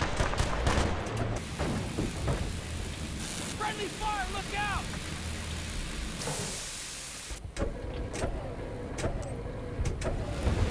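Armored tank in the Battlefield: Bad Company 2 Vietnam multiplayer game, heard as a steady low engine rumble and clatter under continuous battle noise, with scattered gunfire and someone talking over it.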